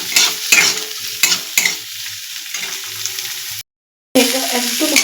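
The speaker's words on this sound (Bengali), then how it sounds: "দিয়ে দেবো পেঁয়াজ কুচি, দিয়ে এটাকে আমি একটু হালকা লাল করে ভেজে নেব" Chopped onions frying and being stirred in a pan, a steady close sizzle with sharp scraping stirs in the first seconds, broken by a short silent gap before the frying resumes.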